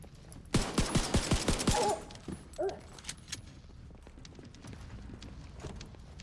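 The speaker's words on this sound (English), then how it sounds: "Gonna mess about with this pistol." A pistol fired in a video game, a quick string of about eight sharp, evenly spaced shots close up, followed by a couple of faint clicks and quiet handling noises.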